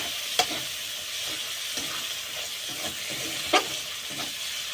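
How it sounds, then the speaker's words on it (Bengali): Chopped tomatoes and spice paste with salt sizzle steadily in a pan while being stirred, a continuous hiss marked by a couple of sharp spoon clacks against the pan, with no talking. "ভালো করে কষিয়ে নেব।"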